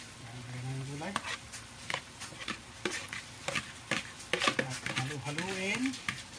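Vegetables being stir-fried for pancit canton in a pan, with a steady sizzle broken by repeated scraping and clattering stirs, while a voice talks intermittently over the cooking.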